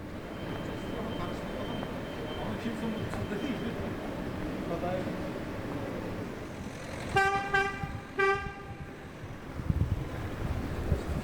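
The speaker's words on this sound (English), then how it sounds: "police just honked at me" Two short, loud horn blasts from a police car close by in Istanbul's Taksim area during a curfew, over steady wind and traffic rumble.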